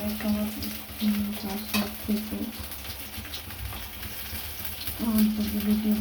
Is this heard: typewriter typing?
no